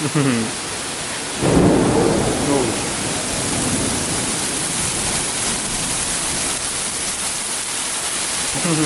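Heavy rain pouring in a small town in Kerala with a loud rumble of thunder early on, then a dense steady downpour hiss throughout.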